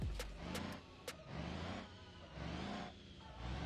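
Truck engine in BeamNG.drive straining hard on nitro, a loud, continuous rough roar with rhythmic surges and a few sharp high clicks early on, no talk.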